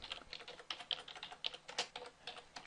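Typing on a computer keyboard while entering a text document: a steady patter of light, quick key clicks with irregular rhythm, close by and alone without speech.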